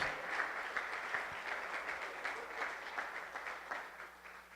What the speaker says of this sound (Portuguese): Uma salva de palmas para os meus atores aqui.